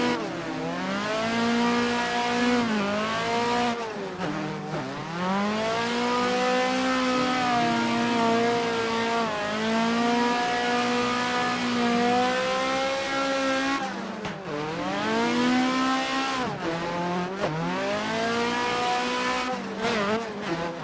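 Drifting car engine in a racing game played on a MOZA R5 wheel, a continuous loud whine rising and falling in pitch, revving through repeated swings and slides as the car spins out, sustained throughout with brief dips.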